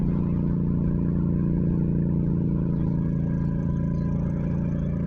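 A motorcycle ridden along a road, its engine droning steadily at moderate volume with a constant low rumble and wind-like broadband noise, no talking.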